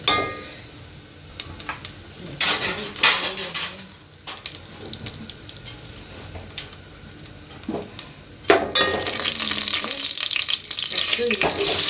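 Whole fennel seeds, cinnamon, cloves, cardamom and bay leaf sizzle in hot oil in a pan, with intermittent clatter of a spoon stirring against the metal and a louder, steady hiss building near the end.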